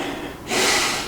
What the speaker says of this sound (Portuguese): Ela está respirando, senão ela teria morrido.